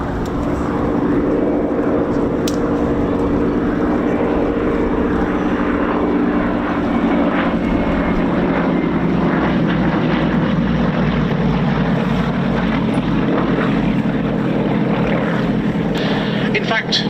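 Yak-52 piston-engined trainer aircraft at an airshow, its engine droning steadily and loudly throughout with a broad continuous rumble, no clear rise or fall.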